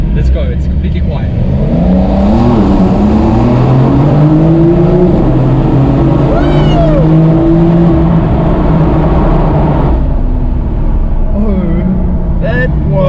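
A 2019 Porsche 911 Type 992 accelerates hard in a tunnel, its engine note climbing loud and close through rising gear pulls, while people talk and react over the roar.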